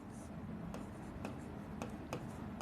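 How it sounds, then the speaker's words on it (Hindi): A teacher writes on a board during a Hindi lecture with a run of quiet scrapes and taps, about five distinct strokes over a low background. "लिख देता हूं मैं"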